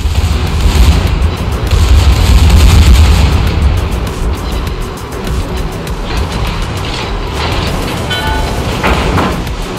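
Rapid, overlapping booms of secondary battery guns on the German battlecruiser Prinz Rupprecht in a World of Warships naval battle, loud and continuous with heavy low rumble and dense crackling reports throughout.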